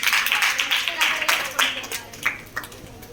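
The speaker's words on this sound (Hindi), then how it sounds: "ताली बजाओ" A classroom of students claps together after a teacher's praise during a fractions lesson, a burst of quick overlapping hand claps close by that thins out into a few scattered late claps.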